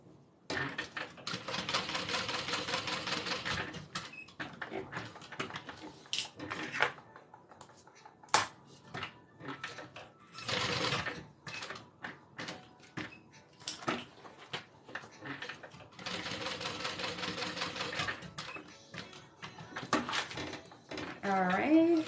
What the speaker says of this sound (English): This is an industrial sewing machine,